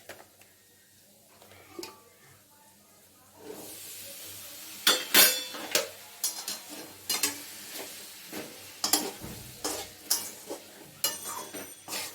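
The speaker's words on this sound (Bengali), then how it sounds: "এবার মটরগুলো আমি ঢেলে দিই।" Peas are tipped into a pot of hot oil with chicken for a kabuli chana curry, setting off a rising sizzle, followed by repeated scraping and clinking stirs of a spoon against the metal pot.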